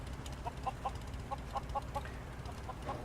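Chickens at nests in the video game Fallout 4 give a steady run of soft, evenly spaced clucks over a low background hum, with no voices.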